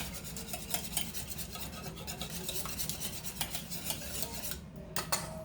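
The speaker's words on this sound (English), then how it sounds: "Let me make sure I've got the yolk stirred up real good before I add my mix in." Egg yolk being whisked in a bowl for microwave gingerbread, a steady run of quick metal-on-dish scraping and tapping, close and fairly quiet, with no talking.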